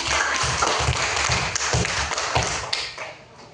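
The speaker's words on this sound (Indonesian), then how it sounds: "tepuk tangan untuk kelompok 3" A class of young students applauds a group after a math lesson, with steady clapping mixed with rhythmic thumps on tables or the floor, fairly loud and close, tapering off toward the end.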